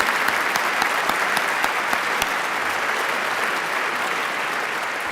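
An audience at a family office symposium applauds, giving a dense, steady clapping that stays loud and even from start to finish, with no voices over it.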